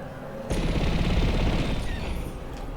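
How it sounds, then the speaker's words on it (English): Missile launchers and a Gatling gun on a starfighter in Star Wars Squadrons open up abruptly in a dense, loud burst of rapid firing that rolls on for about two seconds before easing slightly. "that's a lot of power behind those launchers. Behind that Gatling gun."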